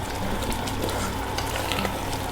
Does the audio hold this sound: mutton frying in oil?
yes